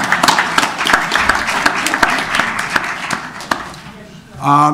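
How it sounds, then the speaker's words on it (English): A crowd at a 2018 Norwalk Board of Education meeting applauds an award with dense, scattered clapping. Someone speaks over the applause, which thins out before a brief, louder voice at the end. "A round of applause for her award."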